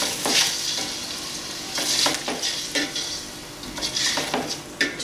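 Chicken and masoor lentils fry and sizzle in a pot for a Lahori murgh cholay, with steady hissing and repeated stirring scrapes throughout, close and alone.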